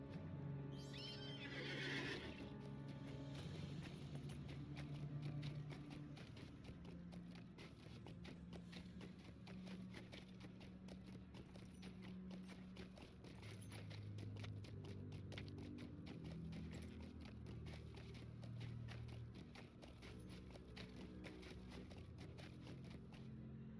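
Horse hoofbeats from a ridden mount in the online role-playing game Lord of the Rings Online, a steady galloping clip-clop with whinnies, loud and continuous over a game music bed throughout.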